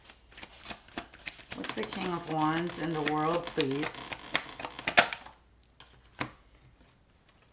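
Tarot cards shuffled in quick papery riffles and taps, close and crisp, with a person's voice talking over much of the shuffling before it trails off into a few last soft flicks.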